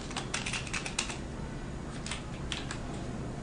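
Quick bursts of keystrokes clatter on a computer keyboard while code for an Arduino LED program is entered, close and fairly soft, with clustered taps followed by a pause and a few more scattered presses.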